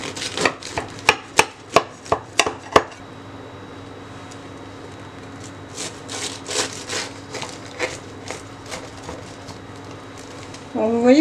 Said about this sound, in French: Je vais couper une part.